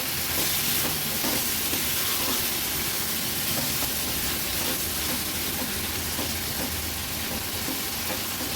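Clams mixed into masala hiss and sizzle in a pan over a high flame in Agri-Koli style cooking, a loud, steady frying rush with light stirring scrapes and no voices.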